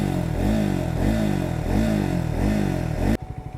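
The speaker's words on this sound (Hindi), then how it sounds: "तो एग्जॉस्ट का साउंड मैं आपको सुनाता हूँ एक बार।" A Triumph Scrambler 400X motorcycle's exhaust blares close by as the single-cylinder engine is revved in several rising and falling pulls, then drops abruptly to a lumpy idle thump at the end.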